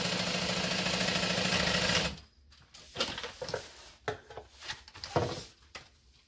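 A sewing machine stitches a seam on a bucket bag, running steadily and loud for about two seconds before stopping, followed by scattered light clicks and handling of fabric.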